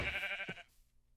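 A single Minecraft sheep bleats once, a short wavering baa close by that cuts off quickly into quiet.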